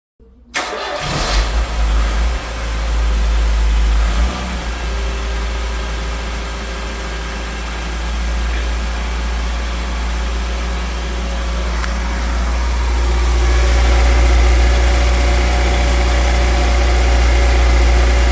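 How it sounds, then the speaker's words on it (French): A 1974 Citroen DS 23 IE Pallas engine starts and runs steadily while its hydraulic system engages, a loud close low rumble that settles into an even idle and swells slightly toward the end, with no speech. "On va enclencher le système hydraulique."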